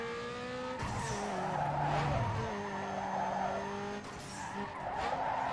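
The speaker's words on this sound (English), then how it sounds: "Do a little drifting, get a little heat in the tires." Car tires squeal and skid while drifting in the racing game Need for Speed Underground 2, long screeching slides over a steady engine drone, loud and close, with a second skid near the end.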